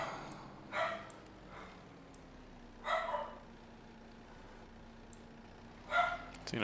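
Tino, a pet dog, barks from indoors at a window in three short, widely spaced bursts at moderate loudness over a quiet, low background hum.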